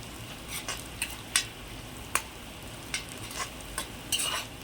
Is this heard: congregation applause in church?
no